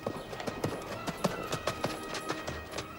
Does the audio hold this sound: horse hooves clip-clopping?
yes